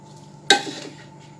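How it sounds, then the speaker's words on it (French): A spoon knocks sharply against a bowl once while cornstarch is stirred into a cake mixture, followed by a brief softer scraping swirl in an otherwise quiet kitchen. "Voilà, je vais mettre la maïzena. Je vais mélanger."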